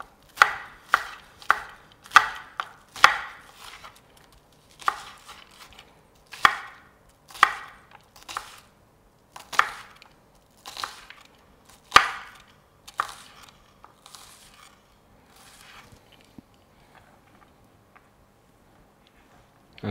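A knife chops and dices ingredients for a chopped cheese on a cutting board, giving about fifteen sharp, close, evenly spaced knocks that come slower and fainter toward the end, with no talking.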